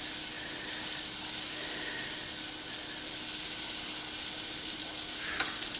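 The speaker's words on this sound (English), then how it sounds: "I'm just gonna take my half stick of butter and I'm gonna get it melting" Half a stick of butter melts in a warm skillet, giving a continuous close sizzle and crackle that holds steady throughout, with a small clink near the end.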